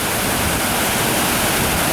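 Steady, dense roar of Crystal Falls in Kinsmen Park, Sault Ste. Marie, Canada, loud and continuous with no breaks, filling the whole stretch without any voices.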